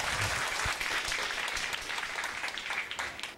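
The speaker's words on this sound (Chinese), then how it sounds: "掌声欢迎。" An audience claps steadily to welcome a contestant onto a talent show stage, a dense burst of applause that slowly thins toward the end.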